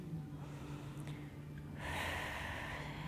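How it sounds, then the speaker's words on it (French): Breathing during an outdoor yoga session: quiet air movement over a low background hum, followed by a louder, audible breath that starts near the midpoint and carries to the end. "Et écoutez bien le son de votre respiration."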